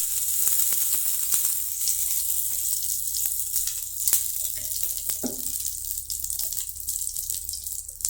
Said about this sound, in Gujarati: થોડું બટર નાખીશું, એની સાથે થોડું તેલ નાખીશું,